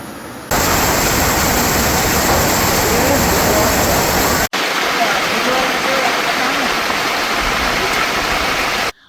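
Floodwater roars loud and steady in a dense, continuous rush after torrential rain in Gujarat, where a car got stuck in the water. The rush breaks briefly halfway through.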